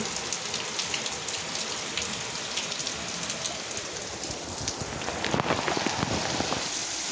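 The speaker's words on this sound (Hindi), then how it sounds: "ये देखिए दोस्तों, बारिश का मज़ा।" Heavy rain falls steadily, a dense and constant hiss of drops on surfaces that fills the whole stretch and grows slightly more spattery toward the end, with no talking.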